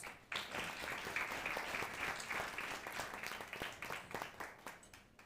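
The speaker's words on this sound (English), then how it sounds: "so give them a round of applause" An audience applauds steadily at a defense and security talk, the clapping starting abruptly and holding at moderate level for several seconds before thinning toward the end.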